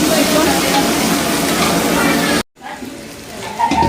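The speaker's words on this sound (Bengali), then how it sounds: "চলুন এটা ভাজা ভাজা হোক" Loud, dense sizzling of chopped tomatoes frying in a pan with stirring, cut off abruptly partway, then resuming more quietly.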